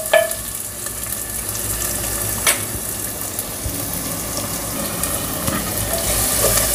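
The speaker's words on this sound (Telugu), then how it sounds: "కొంచెం వేగాలి. ఈ ఉల్లిపాయలు మరీ బ్రౌన్ అయిపోవాలి అలాంటివి ఏం లేదు, కొంచెం ట్రాన్స్లూసెంట్ అయితే చాలు." Onions frying in a pan for a pumpkin stew give a steady, even sizzle throughout, with a couple of brief clinks or stirring taps and no voices.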